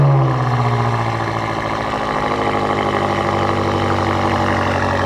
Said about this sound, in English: We can triple tap that lock button and bring this to life.